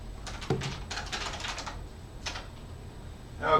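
Quick bursts of keystrokes clatter on a computer keyboard nearby, stopping briefly and then starting again in a quiet room.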